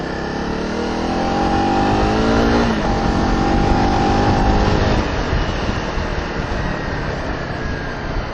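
A Honda CRF250L Rally motorcycle ridden through traffic on an A road, its single-cylinder engine droning steadily and rising as it accelerates, with wind buffeting and surrounding traffic noise, no voices.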